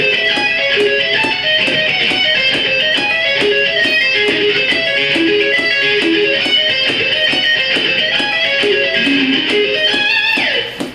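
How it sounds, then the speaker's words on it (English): Electric guitar picking steady arpeggio triplets in slow time, bright repeated notes rolling across the strings alongside an evenly ticking click track, loud and continuous throughout. "I'll play it in slow in time with the click"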